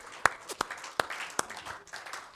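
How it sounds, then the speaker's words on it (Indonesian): A congregation in a church worship service gives a few scattered, distinct claps, four sharp hits standing out over a soft background murmur. "Tepuk tangan sekali lagi buat Tuhan kita."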